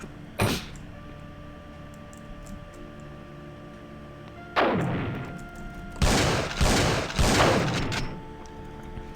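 Booming shotgun blasts in the video game Project Tender: one sharp shot near the start, then after a pause a cluster of four heavy, close, echoing reports in quick succession.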